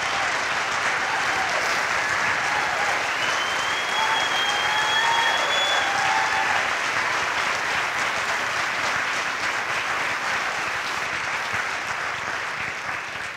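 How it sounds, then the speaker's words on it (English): An audience applauding at a 2018 county address in a high school venue, dense continuous clapping that holds steady and fades slightly toward the end. "Thank you for the applause."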